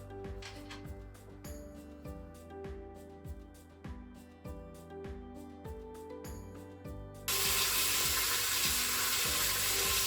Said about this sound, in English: Now that the temperature's reached over halfway, we can begin to add the pork.